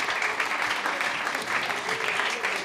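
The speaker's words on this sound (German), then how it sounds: "trotzdem großen Applaus für Lina" Studio audience at a German quiz show applauds contestant Lina, a steady dense wash of clapping holding for a few seconds with a faint voice mixed in.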